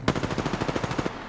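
Rapid automatic gunfire in the Apex Legends video game, a quick burst of closely spaced shots lasting about a second, fairly loud and with no talk over it.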